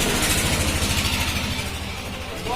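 A motorcycle fitted with a new chain and sprocket runs at idle nearby, a steady, even engine drone with a faint rhythmic pulse throughout.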